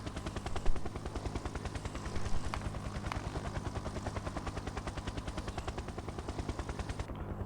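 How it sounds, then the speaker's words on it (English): Rapid, continuous bursts of automated gun turrets fire at attacking enemies in the factory-building game Factorio, a steady mechanical rattle lasting several seconds with a few louder shots, no talking. "13 turrets engage the enemy? How exciting!"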